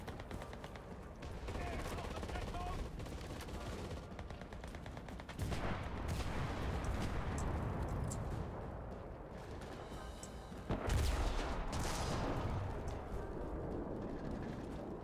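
PPSh submachine guns in the World War II shooter Enlisted fire long, dense automatic bursts, with sustained rattling volleys and heavier booms mixed into the continuous battle din, loud throughout.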